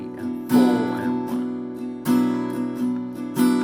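Acoustic guitar strumming the chorus of a song, with three clear accented strums standing out from steady, softer chord strokes in an even rhythm, close and alone.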